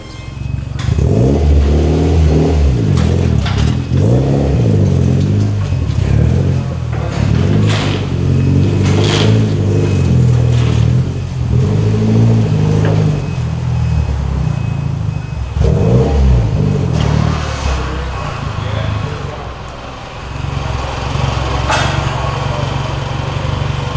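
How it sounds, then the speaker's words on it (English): A manual-transmission car driving with steady, loud engine noise that rises and falls as it revs and shifts, a loose license plate rattling throughout; no talking. "rattle in that license plate needs to be fixed."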